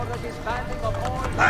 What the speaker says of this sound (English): It's pretty fun to ride the horses on this game